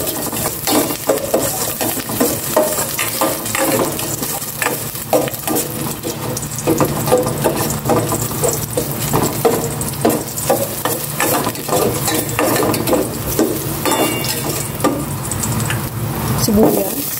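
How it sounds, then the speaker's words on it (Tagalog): Garlic sautéing in cooking oil for a patola and sotanghon dish, a loud continuous sizzle broken by rhythmic scraping and stirring clatter from a utensil against the pan. "And iligisa ko na itong bawang."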